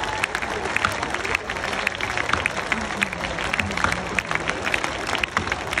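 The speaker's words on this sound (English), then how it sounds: "Nearly there, keep going with your clapping." Crowd clapping steadily at a woodchopping final, a standing butcher's block handicap at the Sydney Show, where a dense, continuous patter of hands holds at an even level throughout.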